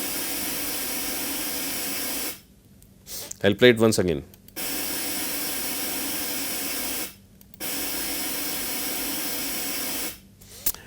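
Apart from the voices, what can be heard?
white noise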